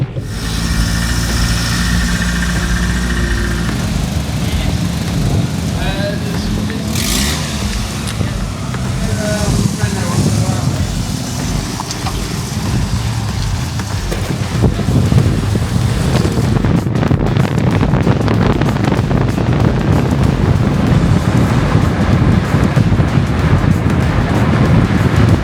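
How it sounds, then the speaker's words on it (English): A Rover 75 drives along with a steady low engine drone mixed with heavy wind buffeting against the microphone, loud and continuous throughout, as someone talks over it at times. "Right, so first time driving a Rover 75."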